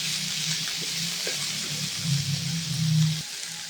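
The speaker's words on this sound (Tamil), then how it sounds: "இப்போது வெங்காயம், பச்சை மிளகாய், இஞ்சி பூண்டு பேஸ்ட்டு எல்லாம் நல்லா வதக்கணுங்க பொன்னிறமாக" Onion, green chili and ginger garlic paste sauté in a pan with a steady close sizzle and faint stirring scrapes, the frying swelling louder toward the end.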